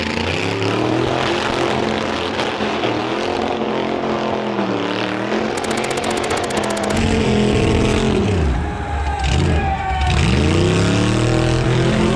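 A Ford Bronco doing a burnout at a $5,000 burnyard burnout contest, its engine roaring loud and close with sustained revs that rise and fall, and no talking over it.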